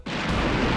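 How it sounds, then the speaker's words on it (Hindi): A Diwali firecracker goes off in a TV drama scene, a sudden loud burst that swells into a dense, sustained roar filling the short moment. "पटाखे पे चिंगारी लग चुकी है"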